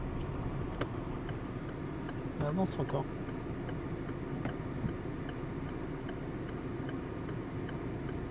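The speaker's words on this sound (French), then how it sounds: "Clignotant." A car's turn signal ticks in a regular, quiet rhythm inside the cabin under a low engine hum, while a voice speaks briefly partway through.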